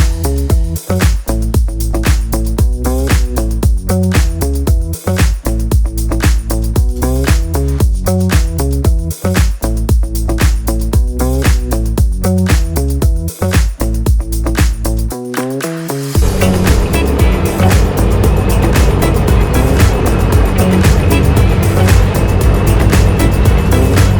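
A Honda Vario 125 scooter rides along a road on a touring trip, its engine a steady loud drone with rhythmic pulsing, then a harsher wind-blasted roar for the last several seconds.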